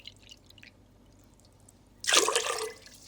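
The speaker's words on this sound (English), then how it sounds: "I'm gonna put in 4 cups of water and 3 cups of rice." Water is poured into a pot of rice for pressure cooking, a sudden close splashing pour that starts after a quiet stretch of faint drips and keeps running to the end.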